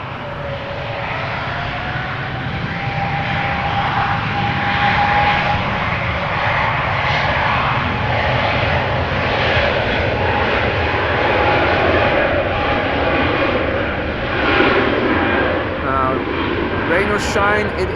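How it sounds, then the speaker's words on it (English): A China Eastern airliner takes off from runway 24 at Amsterdam Schiphol, a loud, continuous engine roar that holds steady throughout, with a voice talking over it. "China Eastern to Shanghai will be taking off from runway 24, it seems like."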